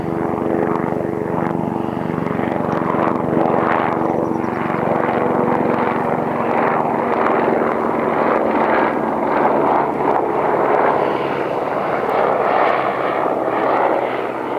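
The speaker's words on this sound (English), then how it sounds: "Another helicopter. There he goes." A helicopter flies over a valley in Nepal's Mardi Himal trekking area, a loud steady rotor and engine drone with faint blade pulsing and some wind buffeting, sustained throughout.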